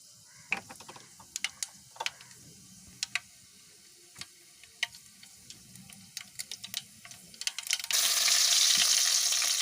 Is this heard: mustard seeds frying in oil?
yes